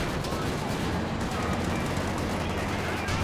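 In a World War II strategy game, an anti-tank gun fires at a Panzer IV amid a dense, continuous roar of battle gunfire and explosions.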